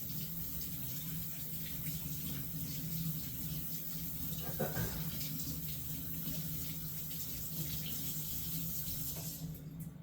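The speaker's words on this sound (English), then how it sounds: "I'm gonna rinse my fingers off real quick" Fingers rinsed under a running kitchen tap: a soft, steady hiss of flowing water held at a low, even level throughout, with no voices.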